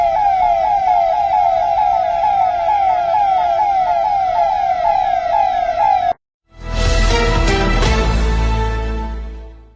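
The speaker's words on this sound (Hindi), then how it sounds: "इतनी सारी गाड़ियां और ऊपर से सायरन की तीखी आवाज" Police vehicle sirens wail loudly and steadily for about six seconds, then cut out briefly before a harsh, broadband burst of siren and traffic noise returns and slowly fades, with no speech.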